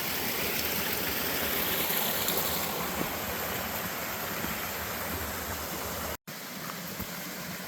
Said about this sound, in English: a lot of pretty waterfalls through here